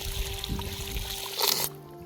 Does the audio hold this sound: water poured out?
yes